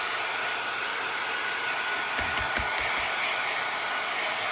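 A hair dryer blows steadily and close by, drying a layer of paint on a floral painting, with a constant loud hiss and a few low thumps partway through.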